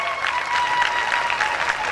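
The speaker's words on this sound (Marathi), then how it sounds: "आपण टाळ्यांच्या गजरात, वारकरी संप्रदायाच्या टाळ्या काय असतात" Crowd applause welcoming the chief minister at a gathering, dense, continuous clapping from many hands, loud and steady throughout.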